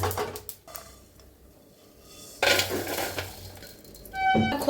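Roasted coconut and sesame are scraped from a pan onto a plate, with a spoon clinking and scraping against metal and dishes in several close, uneven bursts separated by brief pauses, no talk.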